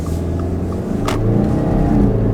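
A 2025 Subaru Ascent's turbocharged engine accelerates with a steady, close engine drone and road roar that swells slightly in loudness partway through, with no talking.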